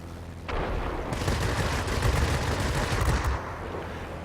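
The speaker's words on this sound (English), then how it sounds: "The 50 cals will make that sound like, oh, we're hitting them" Rapid, continuous .50 cal machine-gun fire from a heavy fighter aircraft in World of Warplanes, a dense, loud burst lasting about three seconds over a steady engine drone.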